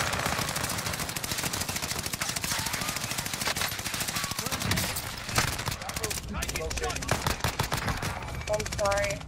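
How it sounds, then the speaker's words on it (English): Rapid automatic gunfire from a Call of Duty Warzone match crackles in dense bursts throughout, loud and close, with someone talking over the shooting. "I'm getting shot at."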